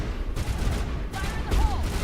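Gunfire in the Mass Effect video game: a dense, continuous burst of loud shots with booming low-end impacts and a rising swell near the end, with no talk.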